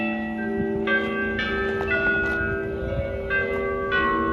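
Church bells at St Mark's Catholic Church in Brooklyn ring the first-quarter chime at 7 PM, several sustained overlapping tones struck in sequence and ringing loud and close, with a woman faintly singing along.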